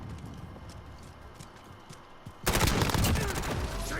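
Gunfire during a Modern Warfare multiplayer match, first as distant scattered shots, then a loud burst of rapid automatic fire close by for the last second and a half.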